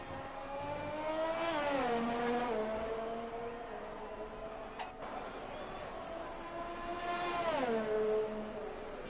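F1 car engine on a hot lap in an esports racing game at the Canadian Grand Prix, a high whining engine climbing through gears, dropping on downshifts and rising again, heard steadily and fairly close.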